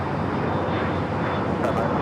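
An airliner at LAX on runway 25 right roars on its takeoff run, a broad, constant engine rumble and rush held at a steady level throughout.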